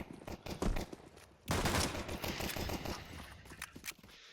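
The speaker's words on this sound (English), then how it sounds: "Fighter holding it strong with the dualies" Dual Berettas pistols firing in Counter-Strike 2 during a bombsite rush, rapid close bursts of gunshots with a dense volley in the middle, under faint game ambience.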